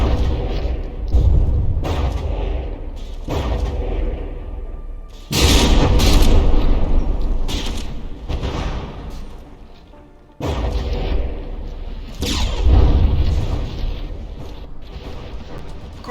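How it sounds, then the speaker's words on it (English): Battleship guns in From the Depths fire repeated heavy booms, each followed by rumbling shell impacts and explosions, in loud bursts spaced a few seconds apart with lingering decay between. "That is a critical shot from New Hampshire right there."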